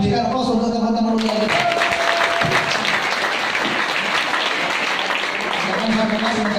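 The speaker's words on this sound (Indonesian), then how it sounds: "Berikan aplaus untuk teman-teman UI." Applause from an audience at a student debate, steady loud clapping from a crowded room that carries on for several seconds after a brief voice at the start.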